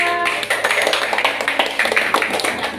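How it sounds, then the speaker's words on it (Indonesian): A school classroom gives a group a round of applause, several students clapping in a steady, moderately loud patter for a few seconds. "Berikan tepukan untuk kelompok 2"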